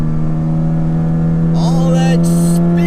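A truck engine hums steadily and loud from inside the cab, climbing as it revs into its VVTi range, with a brief higher whine and hiss partway through.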